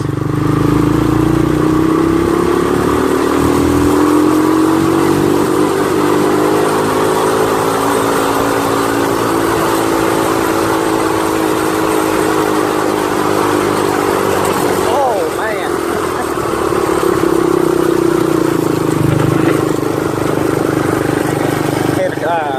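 A four-wheeler ATV engine drones steadily and loudly as it drives over farm ground, its pitch rising and falling slightly with some clatter, while a person talks over it.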